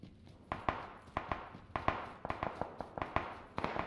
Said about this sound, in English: Shots coming from the houses.